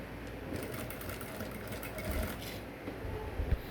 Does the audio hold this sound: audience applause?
no